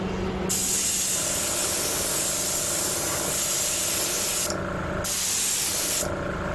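A long continuous spray hiss from an airbrush painting a crankbait fishing lure white, close and loud, broken by two brief pauses before resuming.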